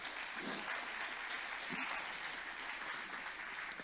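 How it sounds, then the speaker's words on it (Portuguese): A church congregation gives the men a round of applause, a steady wash of many hands clapping, moderately distant and even in level, with no clear voices over it. "Um aplauso para os homens."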